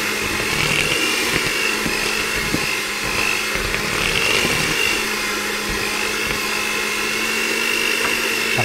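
An electric mixer runs steadily through flour batter with a constant high whir and faint rattling ticks, loud and close, with no talking.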